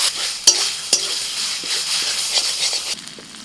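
Onion sizzles and fries in a pan with ginger-garlic paste, pepper and cumin, a steady close hiss broken by a few sharp stirring scrapes near the start, with no talking.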